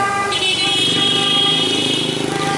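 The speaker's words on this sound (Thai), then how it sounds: "รถเมย์ผ่านไปไม่มีคน" Traffic noise on a busy road in Hanoi as a bus rumbles past, with a steady engine drone and a horn-like tone in the background.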